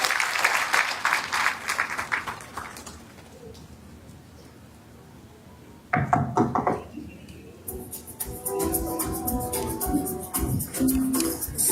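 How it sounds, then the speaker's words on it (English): An audience at a medical school graduation ceremony claps in bursts: a round of applause fades into a quieter stretch, then clapping surges again mixed with crowd noise and cooing birds nearby. "Is that how we clap? Can we do a better clap for this guy?"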